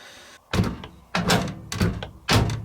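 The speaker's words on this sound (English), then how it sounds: "so your door handle is here, and it's like a ratchet, so it goes that way, yeah, towards you" The door of a Candy Aquamatic Aqua 100F compact washing machine is worked by its ratchet handle, giving four distinct clunks and thuds spaced roughly half a second apart, close and moderately loud.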